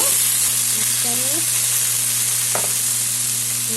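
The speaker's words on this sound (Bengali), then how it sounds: "এখন দিয়ে দিলাম কোয়াশ। কোয়াশটা একটু ভাজা ভাজা করে নেব।" Squash pieces frying in a pan for a Bengali masoor dal dish, giving a loud, close, continuous sizzle with some stirring scrapes and no voices over it.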